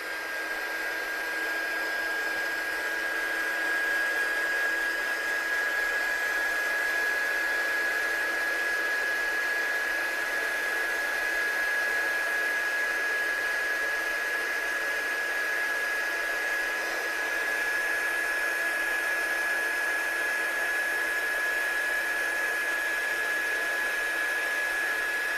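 A heat tool blows a steady, loud whoosh with a thin constant whine while heat embossing stamped handmade cards. The sound runs unbroken and close for the whole stretch, with no talking.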